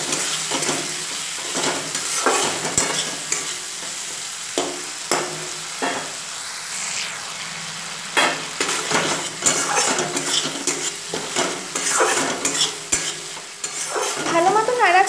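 Spices for a snakehead fish curry are stirred in a sizzling pan, with a constant frying hiss under frequent rhythmic scrapes and clinks of a spatula against metal, close and lively, no speech.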